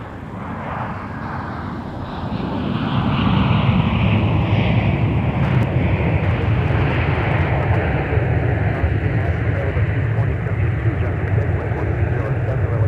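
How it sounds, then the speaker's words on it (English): Delta airliner arriving at MSP airport from Portland, Oregon, a rising, swelling jet roar that grows louder over the first few seconds and then holds steady and close, mixed with wind noise. "next up we got Delta 2415 coming in from the Pacific Northwest from PDX, Portland, Oregon"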